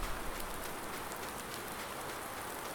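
Steady, even rain hisses down over a farm in Farming Simulator 19, a constant wash of drops with no talk.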